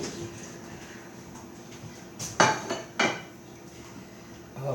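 A plate is taken out and set down in a home kitchen while blintzes are cooked, heard as a cluster of sharp clattering knocks of dishware, then one more clink, over a quiet background.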